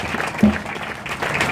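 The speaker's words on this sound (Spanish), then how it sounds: "Denle un aplauso fuerte a Cristo en esta hora." Brief burst of congregational applause at an evangelical church service, moderately loud, with some voices mixed into the clapping.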